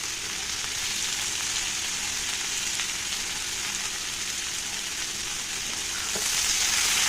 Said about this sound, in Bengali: তো একসাথে এবার ভালো করে একটু ভেজে নেব